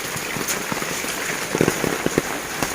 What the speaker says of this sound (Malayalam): എന്റെ കൊടയില് വെള്ളം വീണാണ്